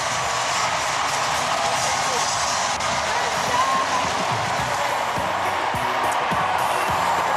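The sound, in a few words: crowd cheering at the DNC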